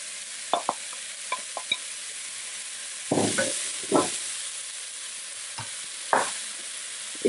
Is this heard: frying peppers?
yes